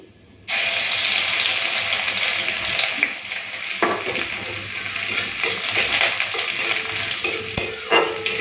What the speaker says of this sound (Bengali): দুটো শুকনো লঙ্কা এখানে তেলের মধ্যে দিয়ে দিয়েছি এখন দিয়ে দেবো থেতো করা রসুন